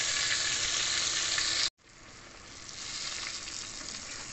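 Daing, dried fish, frying in oil with a loud steady sizzle that drops at a brief cut, then builds back to a continuous crackling fry.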